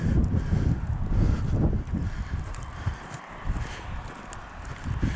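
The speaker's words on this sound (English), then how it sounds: "I'll watch some of the snow blowing off the tops here" Strong wind gusts blow snow off mountain tops in a Chinook-like blast, roaring steadily and close with heavy buffeting on the microphone, easing slightly toward the end; no talking.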